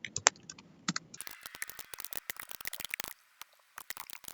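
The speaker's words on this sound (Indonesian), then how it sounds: "setelah selesai kita mengetik perintah untuk checkpoint" Rapid keystrokes on a computer keyboard while entering a database checkpoint command, dense irregular clicking close to the microphone after a couple of isolated taps, with short pauses toward the end.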